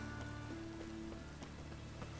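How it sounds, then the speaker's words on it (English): Steady rain falling on surfaces in The Witcher 3: Wild Hunt, a soft continuous patter with scattered drop hits, heard alone at low level. "Rain, I like rain."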